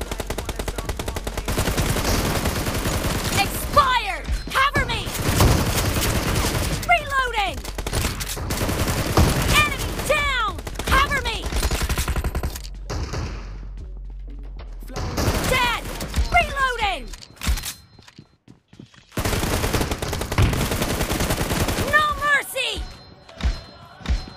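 Rapid automatic-weapon gunfire in the mobile shooter PUBG Mobile, repeated bursts of sharp shots with pinging impacts and brief pauses, loud and close, mixed with game announcer voice lines.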